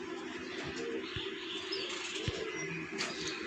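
A blue kamagar pigeon with red eyes and feathered feet makes soft, low cooing murmurs close by, with a few brief bird chirps above a steady background hum.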